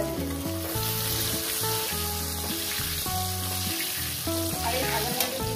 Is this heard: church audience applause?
no